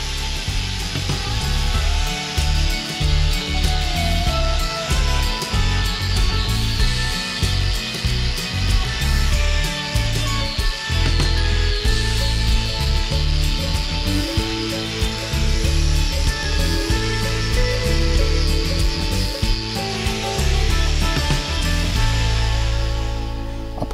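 A powered grinder trims an overgrown back hoof on a cow during a routine trim, whining loudly and continuously up close, with repeated bursts and dips as it cuts into the horn.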